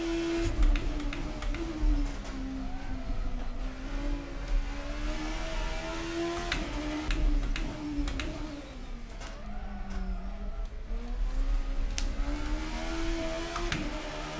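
Oldbac Kalana, Estonia's fastest racecar, in the Assetto Corsa driving game: a steady, loud engine drone rising and falling with revs across the whole stretch, with no talking.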